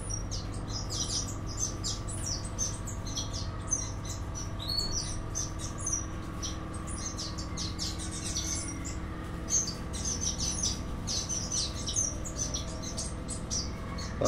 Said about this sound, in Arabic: وهسه هاي الطيور ان شاء الله راح ننتقل بالمحمية هنا، محمية الفينيشات.